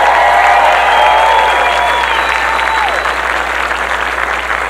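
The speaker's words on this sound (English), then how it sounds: "can you please give a huge round of applause everybody for Tim Tracker?" A crowd at a celebration-of-life gathering in Garden Grove, California gives sustained, loud applause filling the room, with whistles and cheering mixed into the dense clapping throughout.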